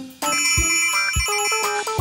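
A cartoon telephone rings in bright, bell-like bursts, repeating in quick, loud trills close by, with no voices.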